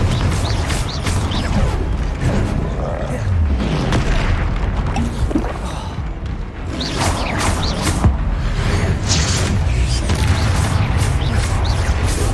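Confringo spell blasts in the video game Hogwarts Legacy make a loud, dense rumble of booms, whooshes and crashing impacts that carries on without a break, with no voices over it.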